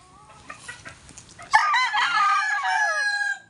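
A gamefowl rooster of the Grey and Sweater Kelso breeds crows once, a loud, close, drawn-out call lasting about two seconds, preceded by softer clucking and background farm noise.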